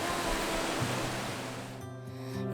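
Fast-flowing water rushing nearby as a loud, continuous broadband roar, easing slightly near the end, with no voices.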